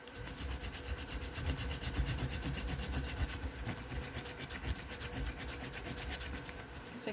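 Rasping file worked steadily across a soapstone elephant carving, a continuous gritty scraping with rhythmic strokes, close and fairly loud throughout with no voices.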